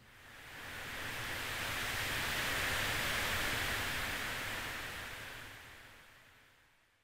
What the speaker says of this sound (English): this sets the color of the mechanical noise from pink to white